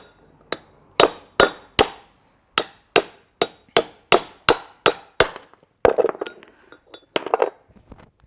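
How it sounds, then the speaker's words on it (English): A hammer strikes a brass drift to drive out a rear axle bearing and seal on a Toyota LandCruiser Hilux, with a run of sharp metallic blows at a fairly regular pace, then a cluster of quicker, rattling taps. "put a brass drift in there, because you remember, we've got this seal to punch out as well"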